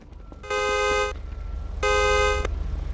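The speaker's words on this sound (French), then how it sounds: "Arrêtez de klaxonner." Car horns honk in two long sustained blasts in a Garry's Mod DarkRP roleplay street scene, each lasting over half a second, loud and close over a low background rumble.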